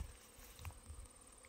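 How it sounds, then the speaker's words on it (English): Honeybees flying and circling near a hive, a faint soft buzz with a couple of brief louder passes close by over quiet outdoor background. "The bees are all congregating by the hive, and then they're just kind of flying around, circling around a lot."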